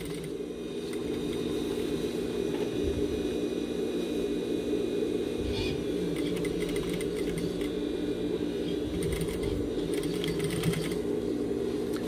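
Sewing machine stitching while a zipper is replaced in a pair of jeans, a steady close whirring hum that runs continuously for about twelve seconds, with small shifts in speed and no voices.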